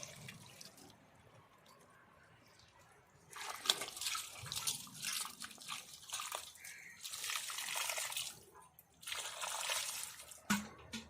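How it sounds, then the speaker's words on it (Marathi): Elephant foot yam (suran) is rinsed in water: after a quiet start, steady splashing, dripping and trickling run loud and close for the rest, with no talk. "आता आम्ही असा स्वच्छ धुवून घेऊया"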